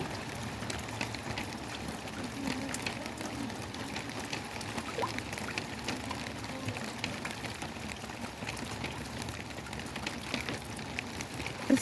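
Rain falls outside on a cold day in Grand Prairie, Texas, a faint, continuous patter and hiss that stays even throughout with no voices.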